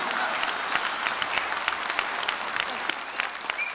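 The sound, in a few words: audience applause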